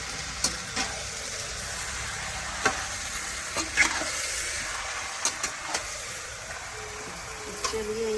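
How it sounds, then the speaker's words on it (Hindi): Chicken pieces frying in a pan while being stirred, a continuous close sizzle broken by scraping strokes of a utensil, with faint speech in the background. "इसको भी हम अच्छे से भूज रहे हैं"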